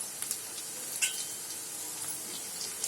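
Brinjals tipped into hot oil with frying onion, giving a steady, close sizzle with a few small stirring clicks on top. No one speaks.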